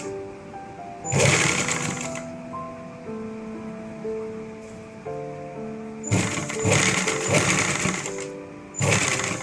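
Sewing machine stitching a designer kurti, running in short loud bursts separated by pauses, with a faint hum and light handling noise in the gaps.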